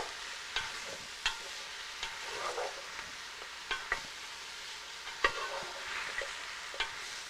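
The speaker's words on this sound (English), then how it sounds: "I stir them up." Vegetables fry in oil while a spoon stirs them, a soft steady sizzle punctuated by regular sharp scrapes and taps against the pan, close and with no voices.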